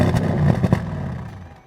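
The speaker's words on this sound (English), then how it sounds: "what you really want is the active exhaust. Without it, you are not getting the full effect of that V8." Rumbling V8 of a 2016 Audi S7 through its active exhaust, a loud, close burst with a couple of sharp revving pulses early on before settling into a steady idle-like drone that fades slightly.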